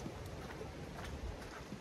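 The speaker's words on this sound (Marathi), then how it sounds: "पाऊस एकदम मुसळधार चालू झाला एकदम, सगळ्या नद्या भरल्यात" Heavy monsoon rain falls steadily over Konkan rice paddies near swollen rivers, a soft, constant hiss of drops with no break, heard at a distance and fairly faint.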